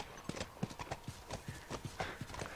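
Horse hooves clip-clop in The Last of Us video game, a steady run of about a dozen near, crisp hoof strikes at walking pace with no talk over them.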